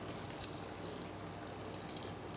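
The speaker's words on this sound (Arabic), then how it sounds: "ودلوقتي هنزل بفص ثوم، هنزل بسم الله بالميه السخنه" Hot water pours steadily into a pot of shrimp in a home kitchen, a faint, continuous rushing splash lasting a couple of seconds with no talking.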